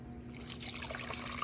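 Water pours into a saucepan holding a cup of sugar, a short soft trickle and splash close by in a quiet kitchen, with no talking.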